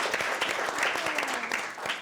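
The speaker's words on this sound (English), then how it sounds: "Round of applause to the ladies." An audience applauding a women-only panel in a steady, dense wash of clapping that holds at an even level for about two seconds, with faint voices under it.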